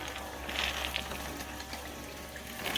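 Water runs steadily into a rocker sluice used for flour gold recovery, a soft continuous gush and trickle of low to moderate loudness with faint mechanical rattling underneath.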